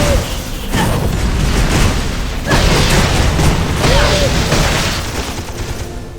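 Repeated booming gunfire bursts from a summoned gun bot in the action RPG Torchlight 2, set in a desert dungeon, rolling loudly over game music and effects with a few short gaps.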